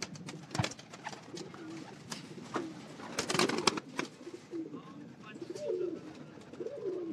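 Large female Ferozpuri pigeons coo repeatedly in low, throaty bursts close by, with some wing and movement noise mixed in and a few soft voices murmuring in the background.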